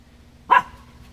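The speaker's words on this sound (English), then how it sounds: "What you barking at, Miss Belle?" A dog named Miss Belle lets out a single sharp bark close by, brief and loud against a quiet indoor background with a faint steady hum.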